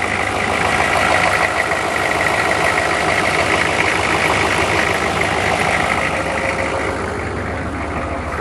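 A cold engine that was just cranked and is trailing smoke runs steadily, a loud, rough, rattling idle with a dense mechanical clatter that holds constant throughout, with no voices over it.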